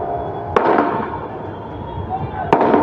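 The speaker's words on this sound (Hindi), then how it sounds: "पटाखा ना फोड़े कोई भी, ये बंद कर दीजिए।" Firecrackers bursting at an outdoor public gathering in India, two sharp loud cracks about two seconds apart over a steady crowd murmur and talk.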